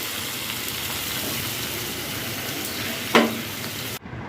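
Continuous frying hiss of ridge gourd, potato and onion in a wok, broken by one sharp utensil clank near the end before the sound cuts off abruptly.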